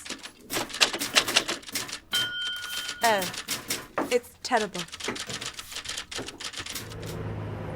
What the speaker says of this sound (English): Imagine 30 typewriters.